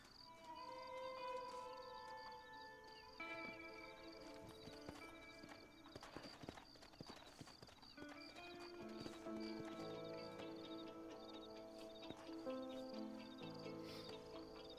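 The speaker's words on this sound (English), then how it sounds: "Horses are over here!" In Red Dead Redemption, horses walk with rhythmic clip-clopping hooves while one neighs and whinnies, set against steady game music and a faint cricket-like ambience.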